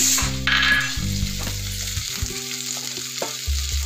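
Onion frying in a little oil for a chicken curry sizzles steadily while a spoon stirs and scrapes the pan in short bursts, close up.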